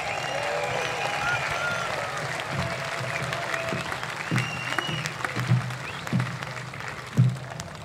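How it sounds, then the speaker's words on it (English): Audience applause for the Principal Director of Music of the Royal Marines band, steady sustained clapping from a large crowd with a few louder bursts and whoops, carried on over faint background voices. "Give him a big applause, please."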